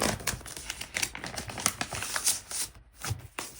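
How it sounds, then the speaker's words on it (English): A sleep-in sticker being peeled off its backing and layered onto a Hobonichi Cousin planner page, with close, busy crinkling and papery tearing rustles in quick irregular bursts. "So I'm just gonna layer one sleep in sticker on top of that."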